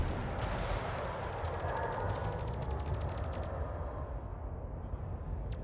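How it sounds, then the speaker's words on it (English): Rapid point-defense gunfire and rumbling explosions in a space combat video game, a dense rattling burst of shots over a low booming bed that tails off near the end. "you hear the explosions like crazy in the speakers"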